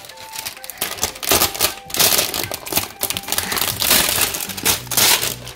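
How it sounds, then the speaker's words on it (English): Crinkling and crackling of plastic wrapping being pulled off LOL Surprise doll furniture toy packaging, a dense run of close, sharp rustles and crunches. "Then you take off the plastic."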